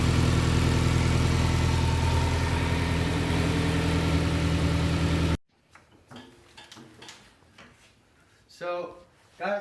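A car engine fitted with a header and straight pipe idles loudly with a steady, droning rumble right after being started, then cuts off abruptly midway, leaving quieter scattered knocks and a voice.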